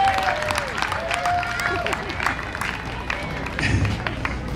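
An audience claps scattered and fairly steadily at a live music show, with crowd murmur and some singing or voices mixed in.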